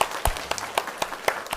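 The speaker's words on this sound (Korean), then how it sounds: "우리 인사하시면 우리 크게 박수로 환영했으면 좋겠습니다." A church congregation at a Sunday morning service claps in welcome for new members, with sharp, distinct claps in a loose rhythm standing out over a softer spread of hands in a reverberant hall.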